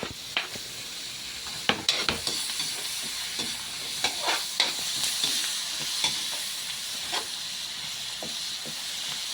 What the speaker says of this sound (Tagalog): Lagyan na natin yung bawang at saka sibuyas.